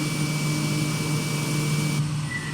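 Steady drone of a Kodiak airplane's engine cruising in a flight simulator game, a loud, even hum with a constant tonal whine that shifts slightly near the end, with no talk.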